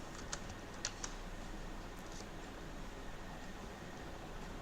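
A few light, scattered keystrokes on a computer keyboard tap out a name, faint against a steady background hiss.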